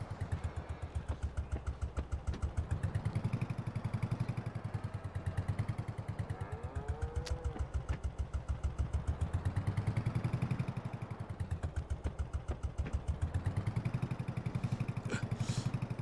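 A tiny Porsche tractor in Farming Simulator 22, hitched to a seed wagon, chugs with a rhythmic mid-pitched engine whose loudness swells and fades in slow cycles, close and without talk.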